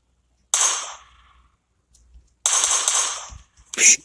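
Gunshots in a video game crack out loudly: one sharp shot with a decaying tail, a pause, then a longer burst of fire followed by a final quick bang.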